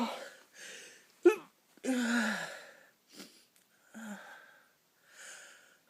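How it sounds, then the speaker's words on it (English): Someone lying in bed lets out a series of breathy sneezes, sniffs and gasps, several sharp bursts between quieter breaths close to the microphone. "I can't stop sneezing."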